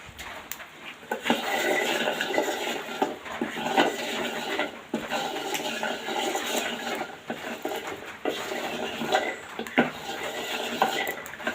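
Jackfruit seeds are stirred as they fry in a pan, giving a steady, dense scraping and sizzling clatter that runs the whole way through with brief pauses, close and fairly loud.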